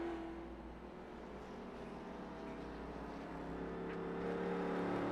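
A race car coasts toward the finish line on the final lap at Stafford, giving a steady engine drone and road roar that swells slightly near the end, with the pitch hum of passing machinery and no pauses.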